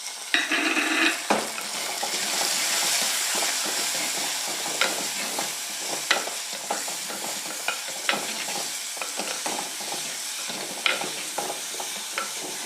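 Finely chopped tomato frying in rasam, a continuous hissing sizzle punctuated by frequent light taps and scrapes of a stirring spoon against the pan, with no voices.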